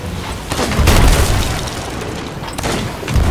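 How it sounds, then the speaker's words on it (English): Booming cannon fire from a Sea of Thieves pirate ship battle rolls out in heavy, loud blasts over a dense, noisy background of game action, with no talk over them. "How many cannons do they take?"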